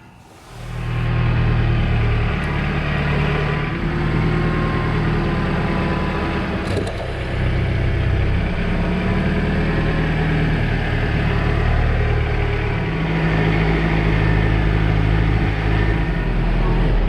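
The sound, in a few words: belt sander sanding a madrone wood slab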